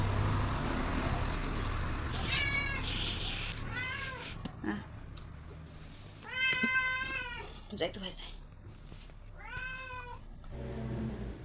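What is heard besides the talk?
cat meowing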